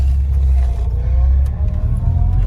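A restored Renault 11 Flash car driving on a road, its engine giving a steady, close, low rumble throughout with no voices.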